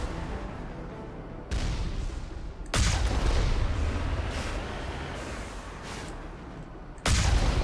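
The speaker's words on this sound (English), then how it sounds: "I just heard an explosion." Deep booming explosions and gunfire from Mass Effect Legendary blast in heavy bursts, with several sudden loud impacts over a continuous rumbling roar of combat.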